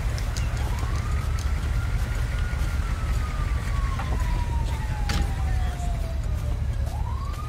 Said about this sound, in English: Oh, the ambulance is here, man!